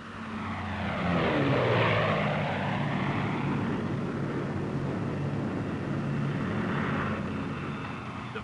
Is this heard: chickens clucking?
no